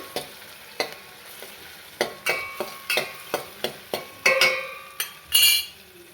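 Egg roll filling fries in a pan, a steady soft sizzle broken by a regular series of sharp metal clinks and scrapes from stirring, about a dozen hits, no voices.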